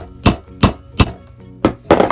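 A metal hammer taps a jeans grommet set on a small anvil to flatten it, giving five sharp, close metallic clangs at uneven intervals, with the last two coming in quick succession.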